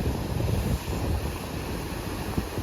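Cool sea wind and waves near the Bandra Worli Sea Link in Mumbai make a steady, full rushing noise with wind buffeting the microphone and the sea churning underneath, and no one speaks.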